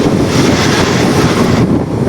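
A saffron Vande Bharat Express train thunders through a station, a loud, close, steady rushing roar with wind buffeting the microphone throughout.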